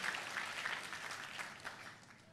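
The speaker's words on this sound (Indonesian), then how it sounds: "Tepuk tangannya yang paling meriah buat Yesus Tuhan kita." A church congregation applauds, a faint, scattered patter of hands with a few brighter accents, fading gradually toward the end.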